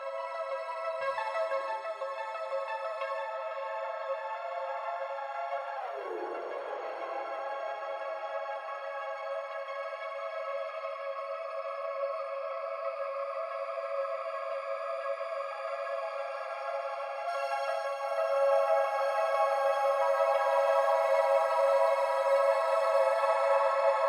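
An Eventide Blackhole reverb, soloed: a sustained, shimmering wash with dense harmonic layers, a slow downward pitch sweep early on, then swelling brighter and louder near the end. No voices.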